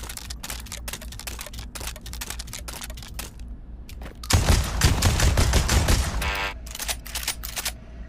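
Rapid gunfire from a weapon in the VR shooter Pavlov, with dense bursts of crisp shots and mechanical clicks throughout and a louder sustained burst in the middle, close and loud with no talking.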